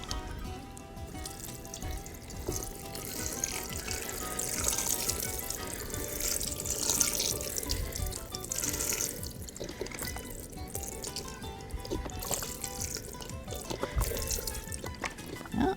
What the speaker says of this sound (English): And you're going to pour it over into the pan.